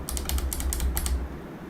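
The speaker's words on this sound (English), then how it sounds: "tap the 9, 0 and negative or take button on the keyboard" Quick taps on a computer keyboard entering number keys in the DCS F-16C Viper simulator, a close string of about nine sharp clicks over a steady low hum.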